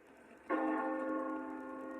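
A bell is struck once with a sudden clang, then rings on in a long, steady, slowly fading resonant hum, fairly loud against a quiet background.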